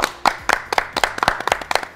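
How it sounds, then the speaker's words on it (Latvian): A small studio audience at a TV game show claps in distinct, rhythmic beats, about eight sharp sets of claps in quick succession, close and crisp. "Vēlreiz aplausi viņiem."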